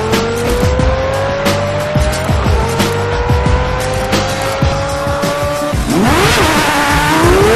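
A modified Lamborghini Gallardo supercar at speed, its engine note rising through successive gears with sharp shifts, loud and close, ending in a burst of tire squeal or skidding.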